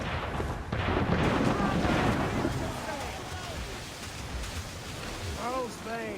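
Mortar fire from a ship in Assassin's Creed 4 Black Flag: heavy, rumbling booms blending into a broad wash like surf, loudest early and then receding, with shouted voices over it.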